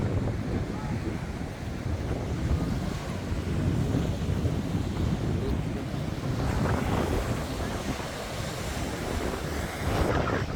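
Surf washing onto the sandy Cleopatra beach in Alanya, Turkey, a steady continuous roar of waves close by, mixed with wind buffeting the microphone, with no talking.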